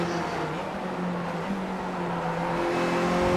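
Race cars in the iRacing sim run side by side down a hill, a steady droning engine note with a faint pitch shift partway through, continuous and fairly loud, no voices.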